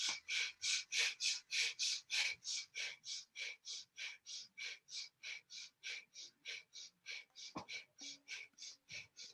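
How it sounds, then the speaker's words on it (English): Kundalini breath of fire: rapid, even nasal inhales and exhales, about three per second, steady and close throughout, with one brief knock near the end. "add in breath of fire, even inhales, exhales through the nose"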